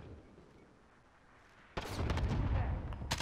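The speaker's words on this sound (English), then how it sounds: "Allied cluster strike inbound." An allied cluster strike lands in a first-person shooter video game, a sudden dense burst of rumbling explosions that cuts in after a quiet stretch of ambient noise and keeps up as a heavy, continuous roar with sharp cracks on top.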